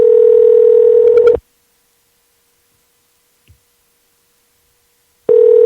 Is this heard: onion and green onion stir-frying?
no